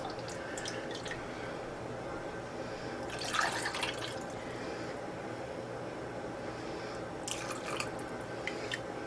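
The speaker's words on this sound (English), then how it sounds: "So now I'm just going to top these up with the broth that's left." Leftover broth pours into canning jars packed with ham hocks, a close, gentle trickle and splash with a few brighter drips and glassy clinks over a soft steady hiss.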